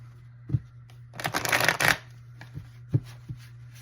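Lightseers Tarot cards shuffled close up in one dense riffling burst of about a second, framed by a few soft taps and knocks of the deck before and after.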